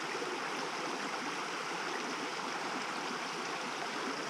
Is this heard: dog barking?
no